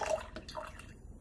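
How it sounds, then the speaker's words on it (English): Water that overfilled a container to the brim spills and drips onto a surface in a short burst of close, soft splashes and trickles, with no talk. "I made a mess just right here. The water spilled."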